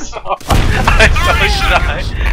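Grenade blast in the World War II shooter Call of Duty: World at War, a sudden loud boom after a brief quiet moment, followed by sustained gunfire and battle noise with players talking over it.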